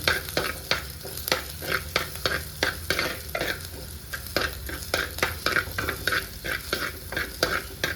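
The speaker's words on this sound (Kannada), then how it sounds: "ಚೆನ್ನಾಗಿ ಎಣ್ಣೆಯಲ್ಲಿ ಫ್ರೈ ಮಾಡ್ಕೊಳ್ಬೇಕು" Ginger and garlic fry in hot oil in a pan, giving a steady close sizzle broken by quick, repeated scraping clicks from stirring throughout, with no voices.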